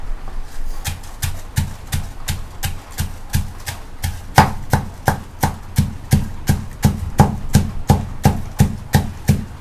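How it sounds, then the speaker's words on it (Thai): Steady rhythmic thuds of a pestle pounding dried chilies in a mortar, about two or three strikes per second, close and repetitive with no talking. "โขก พริกแห้ง"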